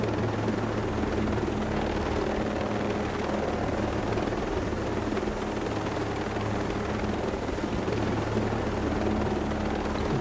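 A helicopter in the video game Ghost Recon Breakpoint, a steady loud rotor drone sustained throughout without pause.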